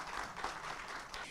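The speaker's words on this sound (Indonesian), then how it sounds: "Tepuk tangan semuanya." An audience at a Startup World Cup pitching competition gives faint, steady applause for a little over a second. The clapping sounds distant and washy.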